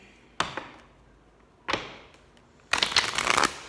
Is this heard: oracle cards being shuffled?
yes